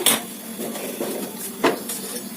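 Metal kadai pan set down on a stove, a sharp clank at the start followed by a few lighter clinks and scrapes of metal on the burner, close and fairly loud.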